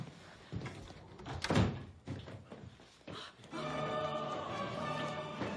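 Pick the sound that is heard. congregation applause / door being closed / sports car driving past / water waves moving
door being closed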